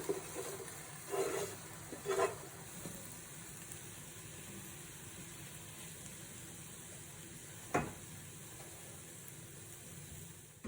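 Maple sausage, potatoes and peppers frying in a non-stick pan, a steady low sizzle throughout, with a few clattering stirs and scrapes near the start and one sharp knock midway.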